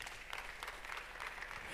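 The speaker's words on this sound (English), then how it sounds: "Clap for Jesus." A church congregation clapping during a fasting and prayer service, continuous quiet applause with no voices heard.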